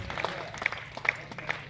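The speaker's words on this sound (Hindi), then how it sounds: "ताली आपके दिल से आई।" Faint audience clapping at a Hindi comedy and satire stage show, a soft, scattered patter of hands with a few sharper claps standing out, heard from some distance.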